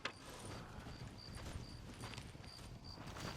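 Horse hooves clip-clop in a steady rhythm as a horse is ridden in the Red Dead Redemption video game, quiet but continuous with a faint recurring tone behind it.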